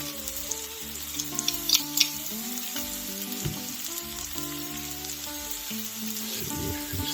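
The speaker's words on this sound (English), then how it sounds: "Do the old scraping sound, how about that?" Chili ingredients fry in a pan with a steady sizzle while a utensil scrapes and stirs across the bottom, occasional scraping clicks over a continuous crackling hiss, close and quiet, with no talking.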